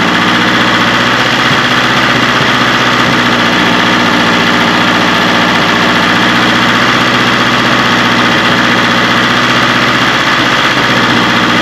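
A newly installed car engine, still burning off old oil it was once coated in, idles loudly and steadily close up with a constant low rumble and slight vibration, no voices.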